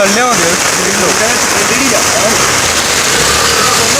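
Steady heavy rain hisses continuously, with a car engine rumbling underneath and voices speaking briefly over the downpour.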